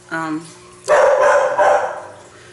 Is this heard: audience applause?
no